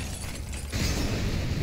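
A flashbang grenade goes off in the video game CS GO, a sudden broad burst partway through that jumps to a loud, sustained hiss and ringing wash lasting to the end, with no talk.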